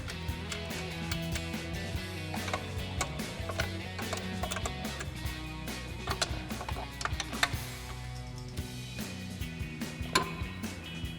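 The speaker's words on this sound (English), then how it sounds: "we're gonna have to get in there with a wrench" A wrench ratchets on a running board mounting bolt under a 2021-2023 Ford F-150, giving a continuous series of quick, close mechanical clicks in a steady rhythm with no talking.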